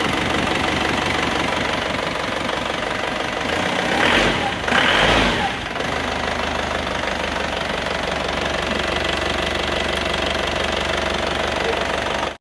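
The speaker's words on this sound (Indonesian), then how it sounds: "Oke, ada kebocoran, knalpotnya bocor ini." Isuzu Panther diesel engine running with a leaking exhaust, freshly fitted with new piston rings and liners: a loud, continuous, close-up knocking clatter with rough chuffing, briefly swelling louder midway.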